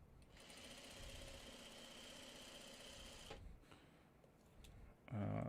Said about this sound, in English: I'm going to back tack it a little bit just to secure it down.